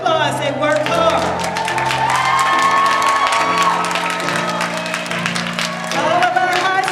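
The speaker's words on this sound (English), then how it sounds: "Give them a round of applause." A crowd at a graduation ceremony applauds and cheers with whoops over background music, the clapping steady and moderately loud.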